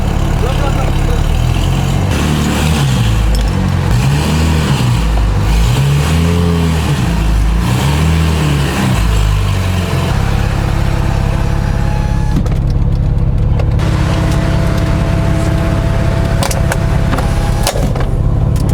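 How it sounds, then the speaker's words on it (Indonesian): A car, apparently a Porsche with a damaged front bumper, reverses into place, its engine idling and revving with a pulsing low rumble before settling to a steady drone, voices talking over it. "Jadi ini mobil masih masuk mundur karena kalau nggak mundur nggak asik."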